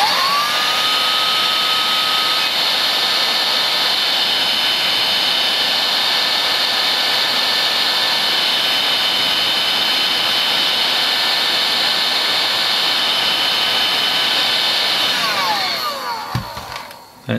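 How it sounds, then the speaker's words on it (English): A heat gun blows steadily on a car ECU circuit board, a loud, constant whooshing roar with a high whine that runs unbroken and then winds down at the end with a click. "Your average heat gun has the potential to do some real damage to an ECU, so just be careful"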